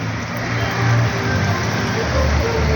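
Heavy rain pours down steadily outdoors at a motorcycle cross-country track, a dense continuous hiss with a low rumble underneath, loud and unbroken throughout.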